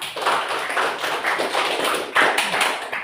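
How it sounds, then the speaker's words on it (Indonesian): A classroom audience applauds a student group after its presentation, dense close clapping from many hands sustained throughout with no break. "Kasih aplaus pada kelompok 2."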